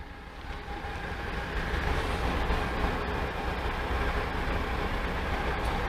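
Freight train rolling past a level crossing on the Great Northern line, a steady heavy low rumble and rattle of wagons that holds strong and even for the whole stretch, close by with no talk over it.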